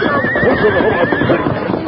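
A horse in a 1940s Western radio drama whinnies loudly while hooves clip-clop beneath it, a close, continuous sound effect with no voices.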